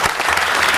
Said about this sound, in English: Let's give Councilwoman Jan Perry a round of applause